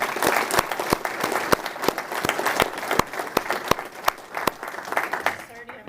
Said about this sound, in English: Let's have another round of applause for everybody who was awarded today.